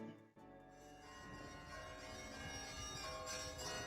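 Church bells ring continuously at an Easter service, a loud sustained peal with layered overlapping tones building slightly in intensity, with no talk over it.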